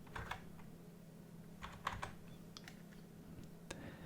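Computer keyboard being typed on to enter an IP address and port, a few scattered short bursts of keystrokes at close range over a faint steady hum.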